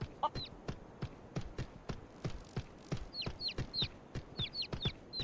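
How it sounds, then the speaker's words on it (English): A chicken in the online game Free Realms clucks in short bursts over a steady run of clip-clop footsteps, with the clucks bunching together near the end; soft and game-like, with no speech. "The chicken."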